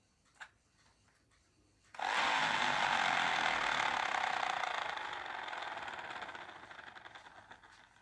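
A lightweight rubber band powered toy dragster, converted from a toy car, is let go after a faint click. Its spinning wheels burst into a loud, close whirring that holds steady, then slowly fades as the wheels spin out.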